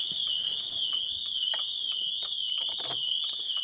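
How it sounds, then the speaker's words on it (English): Dragon alarm system fitted to an Abarth 595 sounds off with a loud, steady high-pitched electronic siren tone, continuous and unbroken, with faint clicks and handling noises underneath. "if it doesn't see the tag, and then it sees an intrusion, then the alarm system will go off"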